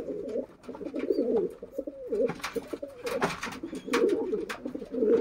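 Racing pigeons coo close by in a loft, a run of soft, throaty, rolling coos that repeat in uneven bursts, with small clicks and rustles between them.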